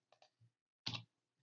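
A single sharp mouse click saving a file on a computer, preceded by a few faint soft taps, short and close in an otherwise quiet room.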